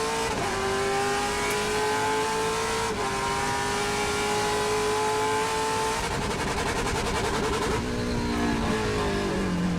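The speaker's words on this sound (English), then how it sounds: "You can hear it getting, just hitting those rev limiter." Tim Lynn's Trans Am race car at Laguna Seca, heard on board, with a loud, sustained engine note that climbs and repeatedly bounces off the rev limiter, a brief lift and shift, then more revving with a rough stutter.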